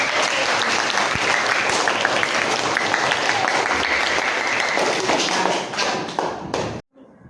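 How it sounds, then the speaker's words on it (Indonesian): A classroom of sixth-grade schoolchildren claps together in a steady, fairly loud patter with some thumps, fading and stopping near the end. "anak-anak silakan tepuk tangannya dulu dong"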